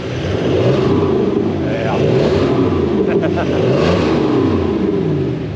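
A simulated V12 engine sound from an electronic sound generator installed in a Toyota LandCruiser 300 revs in rising and falling surges, loud and close, while someone talks over it.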